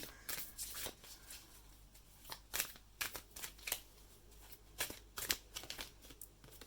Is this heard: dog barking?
no